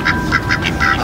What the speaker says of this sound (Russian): Слышишь, кря-кря говорят?